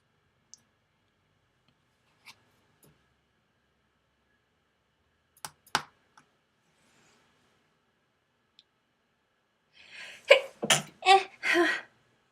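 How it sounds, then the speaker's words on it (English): After a few scattered clicks and taps, a short burst of sneeze-like sounds comes in quick succession near the end, close and fairly loud. "I've been sneezing for 2 days straight, y'all."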